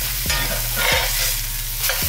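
Shrimp-stuffed cheeseburgers fry in a pan with a constant close sizzle, broken by a few dull knocks and scrapes as the patties are flipped.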